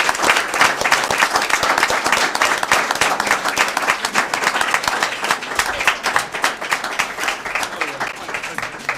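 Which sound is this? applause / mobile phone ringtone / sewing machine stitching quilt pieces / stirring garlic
applause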